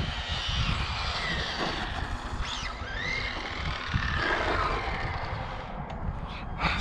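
An Arrma Infraction 4x4 1/8 scale RC car with a Castle Creations Copperhead 10 brushless motor on 3S LiPo runs with a steady high whine and rushing roar, with brief pitch sweeps as it speeds past.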